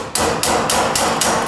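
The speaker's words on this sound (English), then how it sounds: "hammer it down just like a normal rivet" A hammer strikes a metal rivet on a handmade metal rose four times in quick, even succession, each blow loud, sharp and close with a ringing metallic tail.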